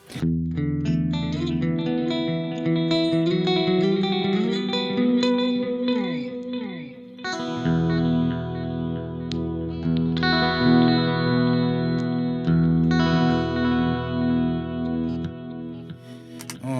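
An Ibanez RG-421 electric guitar through a vintage Marshall Master Volume 50 amp, played continuously with distorted chords and riffs, including a slide down partway through, loud and close with no voices.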